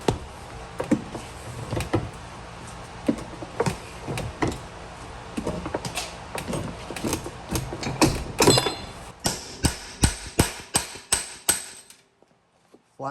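A hammer strikes thick quarter-inch metal to flatten it, landing a long series of sharp, loud metallic blows in irregular rhythm, close up, with a few quiet pauses and a brief silence near the end.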